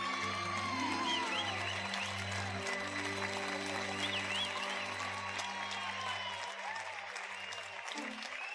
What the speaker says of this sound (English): we hear the clapping of the students and the teachers cheering at Cawree and Tommy